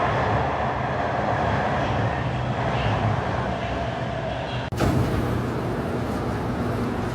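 Shenzhen Metro train running on Line 1 gives a steady, loud broadband rumble and whoosh inside the car, with a brief sharp click partway through and no voices.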